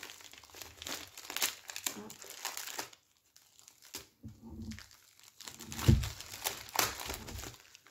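Plastic packaging from diamond painting kits crinkles and rustles in bursts during unboxing, close and irregular, with brief pauses and a few sharper crackles between handling.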